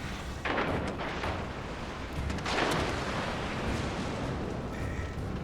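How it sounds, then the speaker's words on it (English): A battleship's naval guns fire in World of Warships Legends with a booming salvo and its rumbling roll, then a second heavy blast a couple of seconds later over steady low ambient noise, no talk. "We'll finish him off with this shot right here."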